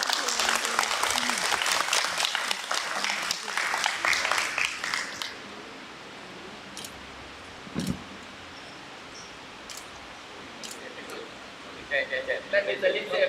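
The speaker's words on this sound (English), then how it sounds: "Can we give him a big round of applause?" Staff at a National Day observance ceremony applaud an operations manager receiving a commendation award, dense clapping for about five seconds that fades to scattered claps and room murmur, with voices and a few claps returning near the end.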